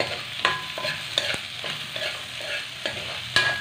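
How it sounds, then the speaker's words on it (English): Ginger, garlic and onion sauteing in a pan, a steady close sizzle broken by regular scrapes and taps of a spatula stirring every half second or so. "Keep on sauteing. Garlic, onion, and ginger."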